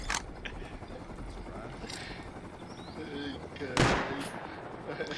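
Gunfire from players in the survival game Rust: a few sharp, distant shots scattered over a low rumbling background, one louder crack standing out near the end, with voices talking in between.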